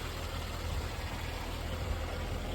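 A Jaguar F-Type R engine idles at a low, steady rumble after running about 30 minutes, even and unchanging, with no talking over it.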